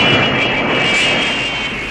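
An aircraft engine roars at full throttle during a climb, a loud, steady, broad drone that holds for two seconds with a slight fade at the end.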